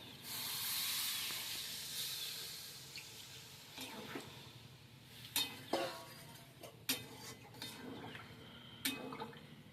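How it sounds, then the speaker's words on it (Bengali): Water poured into a spiced prawn and yam curry sets off a loud initial hiss that fades into softer sizzling, bubbling and a few clinks of pan and utensil close by. "এবার জল দিলাম একটু ফুটবে"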